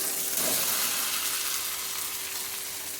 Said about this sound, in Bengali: মশলাটার সাথে আর ছ মিনিট ভালোভাবে নেড়ে চেড়ে কষিয়ে নেবো